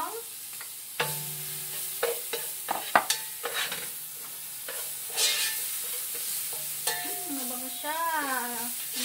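Garlic sizzles and crackles in a pan with intermittent stirring and scraping clatter, fairly close, with no talking.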